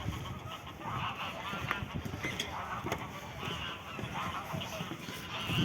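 A flock of geese or similar fowl in a Turkish village bird haven, steady overlapping honks and clucks continuing throughout at a moderate distance, with faint background noise.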